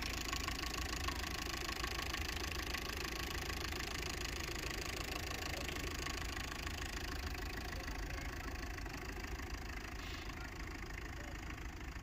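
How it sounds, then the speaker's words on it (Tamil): A Tata Vista car engine idles steadily, a constant mid-pitched hum with faint knocking texture, close and even throughout with no talking. "வண்டி இன்ஜின் நாய்ஸும் நல்லாயிருக்கு."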